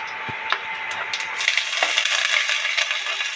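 Mustard seeds and cumin crackle and pop in hot oil, a dense, steady spatter of close, bright crackles that thickens after the first second and runs without any talk.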